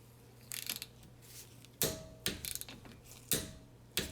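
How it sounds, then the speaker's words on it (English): A torque wrench ratchets on a brake caliper bolt of a Toyota Avalon during front brake work, giving several close, clicking ratchet bursts separated by short pauses, with the quiet gaps between. "So now I'm gonna torque the caliper bolt."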